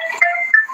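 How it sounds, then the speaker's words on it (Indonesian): A phone ringtone plays briefly during a debate, a short bright electronic melody of a few tones. "Ada telepon, Bang."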